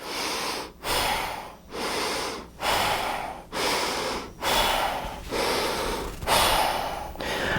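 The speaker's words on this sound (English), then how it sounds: "I breathe with my stomach, I breathe with my chest, I'm breathing through my nose" Deep breathing through the nose during a core strength exercise: eight slow, loud, close inhale-exhale cycles in a steady rhythm, each a long airy rush with brief pauses between, no talking.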